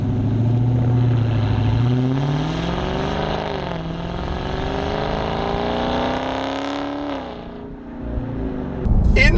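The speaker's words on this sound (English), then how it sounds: "it's definitely got that full V8 rumble that you really freaking want from a car like this" A Dodge Charger Scat Pack's V8 engine rumbles deeply, its pitch climbing steadily as the revs build, then falling away before a final blip, loud and close with no voices.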